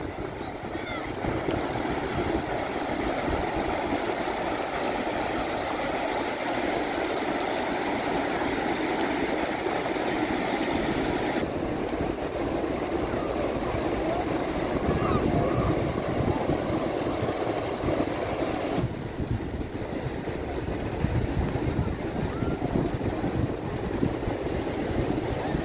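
A boat ride on the sea off Asilah, Morocco, with continuous wind buffeting the microphone, rushing water and waves against the hull, and a low engine drone throughout.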